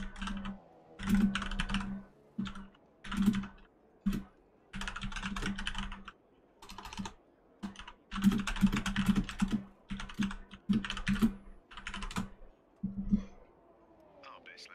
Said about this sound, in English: I probably muted my mic while I was typing.